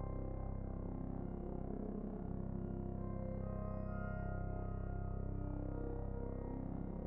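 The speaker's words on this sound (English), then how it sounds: "It's just a lovely reverb with a big hole kind of feel to it" Synthesizer tones from a modular patch drenched in Lumsoft XFX reverb, a dark, dense low-to-mid drone with faint shimmering chirps, steady and washed out in a big hall-like space.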